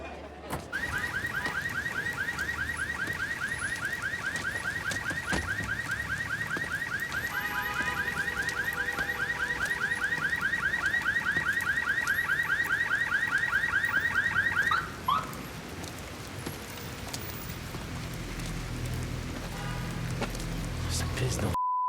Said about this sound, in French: Il paraît qu'on entend l'alarme de ta bagnole.